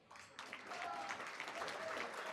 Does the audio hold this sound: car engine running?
no